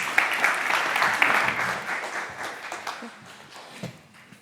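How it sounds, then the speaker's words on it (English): Audience applause greets a panel of four coming onto the stage at a business sustainability event, a dense wash of clapping that fades gradually over a few seconds. "If you give them a warm round of applause, thank you."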